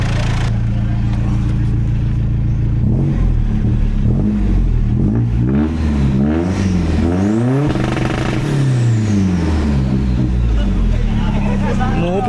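Modified 2009 Ford Trekker engine revved hard in repeated rising and falling sweeps, loud and close, with popping backfires between revs and people talking over it.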